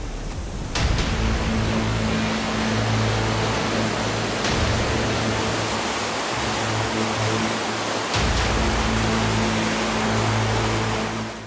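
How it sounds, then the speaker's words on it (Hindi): Steady broadband roar of a large waterfall, water dropping about 150 feet along a trail lined with falls, loud and continuous with a low hum underneath and no talk. "ये तो बहुत बड़ा झरना था।"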